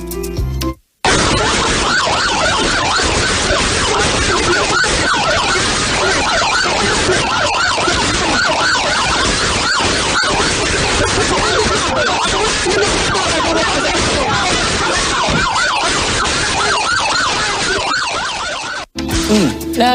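An ambulance siren, loud and continuous for about eighteen seconds, probably wailing close by amid street traffic.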